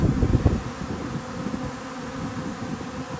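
A honeybee swarm pouring out of the hives at an apiary near fir trees, a dense buzzing drone of many bees close to the microphone with some wind noise.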